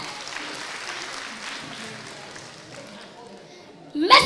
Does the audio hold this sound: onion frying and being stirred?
no